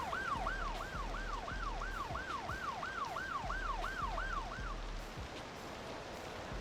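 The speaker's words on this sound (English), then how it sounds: "That siren has been going for a while." An emergency vehicle siren in the city-building game Cities wails in a fast rising-and-falling cycle over steady traffic hum, repeating about a dozen times before stopping.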